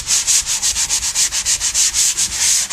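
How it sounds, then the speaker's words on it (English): Rhythmic back-and-forth sanding with a block, a steady scratchy rasp repeating about six times a second, close and fairly loud. "taking the sand block and some light sanding"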